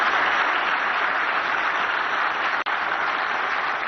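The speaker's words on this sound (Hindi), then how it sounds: "सभी लोग जरा जोर से गौतम भाई के लिए ताली बजाइए जरा" An audience claps for Gautam Bhai Patel at a public function, steady dense applause from a crowd, continuous and fairly loud, with no talk over it.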